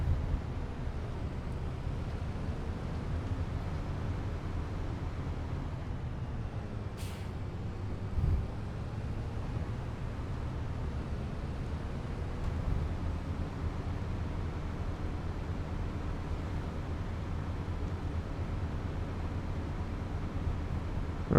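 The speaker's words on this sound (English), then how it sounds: "You can hear the rumbling of the tyres." Tractor tyres rumbling in Farming Simulator 25, a steady low droning roll that continues unbroken throughout, with a faint quiet engine underneath and a couple of small knocks.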